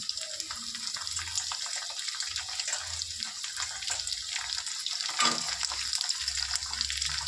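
Onion dropped into a pan of ginger and garlic already frying, giving a steady, close sizzling hiss that runs on throughout with no talk.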